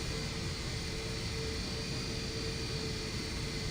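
An aircraft's auxiliary power unit in a flight simulator gives a steady, dense roar with a broad whooshing hiss and a faint tone above it, unchanging throughout.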